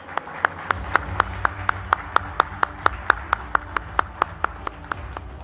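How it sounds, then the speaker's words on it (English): Clapping at a large national media conclave: sharp, evenly spaced claps at a brisk, steady rhythm, about four per second, clear and fairly close over a low background hum. "Can we give him a big round of applause, please?"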